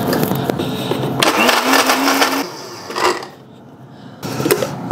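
A kitchen blender grinds torn bagel pieces into breadcrumbs, a loud motor whir with rough, uneven grinding that surges, briefly drops away, then starts again near the end.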